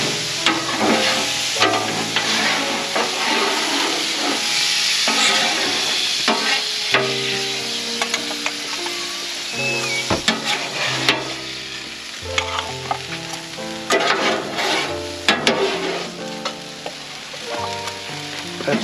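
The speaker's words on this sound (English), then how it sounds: "nothing cleans better than steam" Steam cleaning a hot grill gives a loud, continuous hissing sizzle that surges and fades over many seconds, with scraping and clattering from a spatula mixed in.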